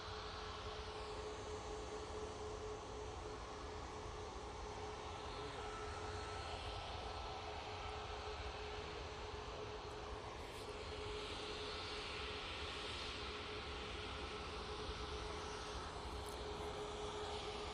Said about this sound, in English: Ryanair 737 MAX 8 going off to Malta.